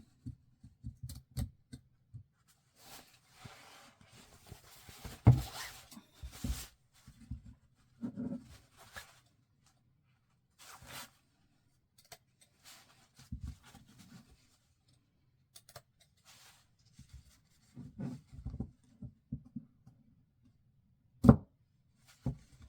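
Scissors snipping into the fabric seam allowance of a sewn cape, with scattered soft clicks and short cuts spread across quiet stretches, close and faint.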